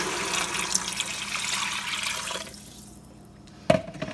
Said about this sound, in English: you're going to add 4 cups of water